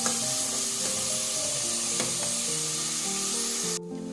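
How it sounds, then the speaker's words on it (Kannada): Onions fry steadily in a pan for chicken masala with a loud, continuous sizzle. Occasional scraping stir strokes rise from it, and the sound drops abruptly just before the end. "ಈರುಳ್ಳಿನ ಚೆನ್ನಾಗಿ ಫ್ರೈ ಮಾಡ್ಕೊತಾ ಇದ್ದೀನಿ."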